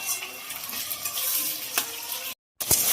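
Chopped onion and tomato with salt sizzle and fry steadily in a pan while a utensil stirs through them, a continuous close hiss broken by a brief silent gap near the end.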